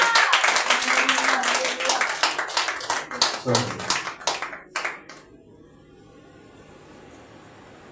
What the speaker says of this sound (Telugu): చప్పట్లు కొట్టి దేవుని నామమున